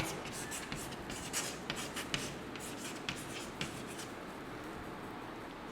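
A seven-digit number being written out by hand during a maths lesson, close pen strokes on paper with a series of distinct taps and scratches, steady and moderately quiet.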